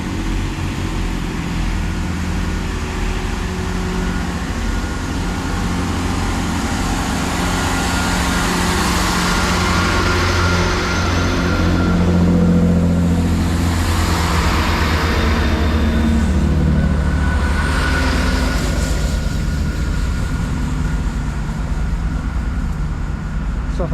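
Class 166 diesel multiple unit 166221 pulling out on the Wessex main line in Wiltshire, bound for Cardiff Central, a steady low engine rumble and rolling hum that swells slightly midway and persists throughout.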